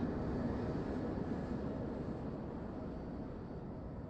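Aircraft flying in Ace Combat 5, a steady low engine rumble and airflow drone that fades slightly over a few seconds, with no voices.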